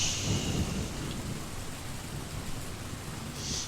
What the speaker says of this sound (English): the rain is getting louder.